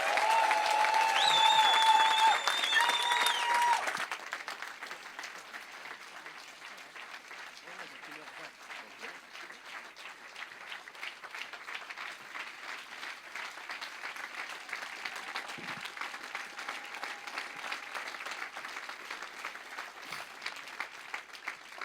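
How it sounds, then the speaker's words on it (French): Applause from a church congregation acclaiming, loud and dense for about four seconds, then fading to scattered, lighter clapping and crowd noise that carries on to the end. "Alors ça, c'était pour moi que vous avez acclamé."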